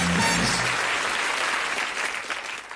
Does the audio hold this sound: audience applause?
yes